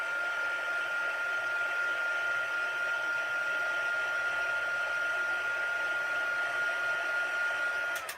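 A heat tool blows a steady, loud, even whir with a constant whine as it dries pigment ink on stamped paper, running alone and cutting off abruptly at the end.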